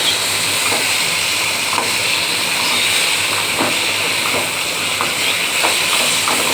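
Fried potato and prawns being sautéed in oil with spice mix for a Bengali chingri recipe, giving a steady, loud hiss and sizzle throughout with faint scraping clicks of stirring.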